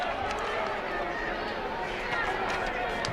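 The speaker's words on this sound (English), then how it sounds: "Clough Ballacolla crowd are booing." A hurling crowd at a Laois senior championship quarter-final replay between Castletown Slieve Bloom and Clough Ballacolla booing a yellow card; a steady, dense wash of crowd noise and voices holds for the whole stretch.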